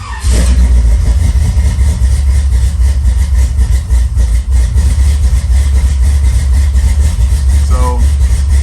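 Truck engine cranks and fires up, then settles into a loud, steady idle with a rough, throbbing rumble close by; a brief squeal near the end.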